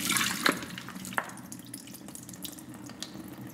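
Water from a cooking pot is poured off into a sink, a close, splashing trickle with a few sharp drips and clinks, gradually easing to a lighter flow.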